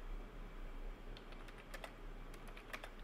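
Quiet typing on a computer keyboard, a scattering of light key clicks in short irregular bursts over a low hum of room noise, close but soft, with no talking.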